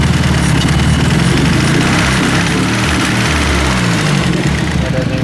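Datsun 510 with an SR20DET engine idles roughly on two-year-old E85 fuel, refusing to rev up; a loud, continuous, uneven engine drone that stays steady throughout.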